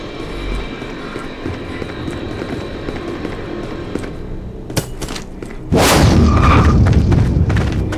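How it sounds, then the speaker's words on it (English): A null cannon firing at an MCC in the sci-fi shooter Dust 514: steady battle rumble, a sharp blast near five seconds, then a loud heavy roaring barrage that holds to the end. "Objective A, null cannon targeting MCC."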